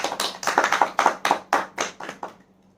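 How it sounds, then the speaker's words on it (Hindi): A small group claps for a couple's 25th wedding anniversary, about a dozen firm, evenly spaced claps that fade out into near silence. "तो इनके लिए एक बार जोरदार तालियां हो जाए"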